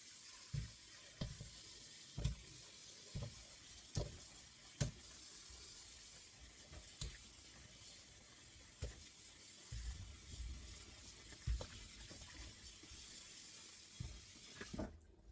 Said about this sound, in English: I'm gonna be washing the potatoes I'm using.